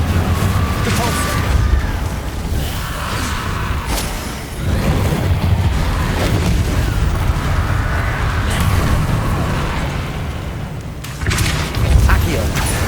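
Depulso force spell striking in Hogwarts Legacy, heavy booming impacts and thuds over a continuous dense game soundscape, loud and close, with a fresh burst near the end.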